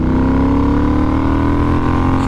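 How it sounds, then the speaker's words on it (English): A scrambler motorcycle with a 270-degree crank parallel-twin engine accelerates hard along a straight, its loud, close engine note climbing steadily in pitch as it pulls through the revs, with no talking. "Let's test this 270-degree crank engine."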